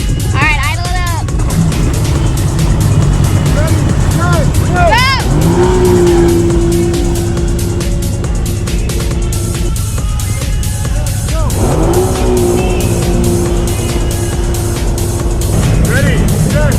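Jet skis, a four-stroke Yamaha SuperJet and a Kawasaki SXR 1500, run their engines loud and close, rising and falling as they rev, with long steady whining tones and people talking over them.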